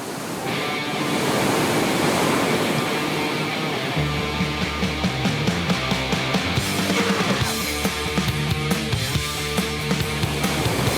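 Ocean surf on Bondi Beach, Sydney, a broad rolling wash that fills the first few seconds, then continues beneath music that enters partway through.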